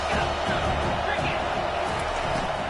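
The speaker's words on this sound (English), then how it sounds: "This crowd bringing the energy and noise early." Stadium crowd at a football game, a steady dense roar of many voices filling the whole stretch, with a commentator talking over it.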